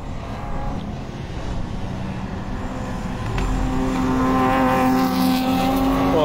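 Honda Civic race cars lap the circuit during an STCR touring car race, engines roaring steadily and growing louder and higher-pitched as one revs nearby, with faint commentary underneath.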